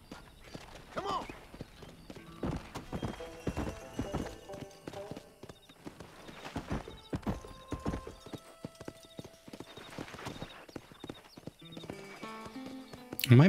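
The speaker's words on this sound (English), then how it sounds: "get our horse." Horse hooves clip-clopping at a steady walking pace with a couple of neighs and whinnies in the Red Dead Redemption video game, moderately close and punctuated by scattered clanks and faint talk.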